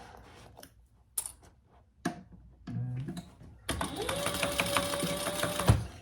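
A sewing machine runs steadily for a couple of seconds, stitching a seam on a shoulder bag, after scattered handling clicks and a short whir, and it stops with a final clunk.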